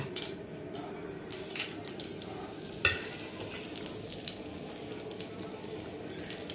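Whole spices and dried red chillies (green cardamom, cinnamon, cloves, bay leaves) sizzle in hot oil for a Bengali prawn tempering, a steady close crackle with small pops and a few stirring clicks, no talk.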